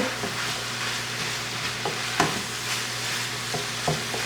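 Taco filling fries in a pan while a utensil stirs it, giving a constant close sizzle broken by scraping and clinking strokes at irregular intervals.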